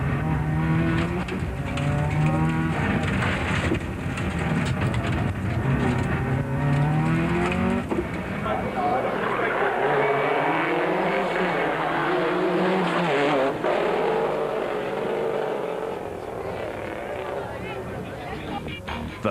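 Subaru rally car on a stage around Jeffreys Bay during the 2006 Volkswagen Rally, engine revving and shifting under loud continuous talk, with gear changes and rising and falling pitch throughout.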